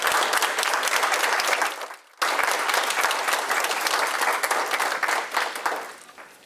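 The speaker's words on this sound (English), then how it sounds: "Can we get another round of applause," An audience applauds speakers at a youth speaking event, dense sustained clapping that briefly drops away, then resumes full and steady before tapering slightly.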